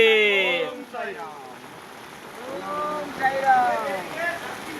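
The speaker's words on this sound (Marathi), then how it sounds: "भरपूर पाऊस चालू आहे आता" Heavy rain hisses steadily in the background during a pilgrims' foot procession near Ghoti village, India, while a person talks over it.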